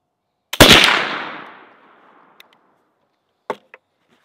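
A single loud, close report from a .32 caliber flintlock rifle with a long decaying boom, followed by a couple of faint clicks as it fades.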